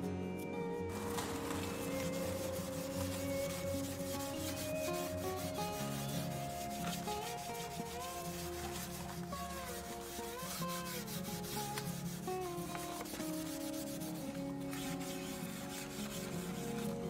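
Fine 000 steel wool rubbed across a dried patina on a wooden surface, giving a steady, close scratchy rubbing with no pauses and no speech.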